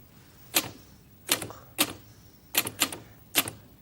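Typewriter keys strike in sharp, separate clacks, about six bursts spaced irregularly over a few seconds, some in quick doubles, fairly close against a quiet background.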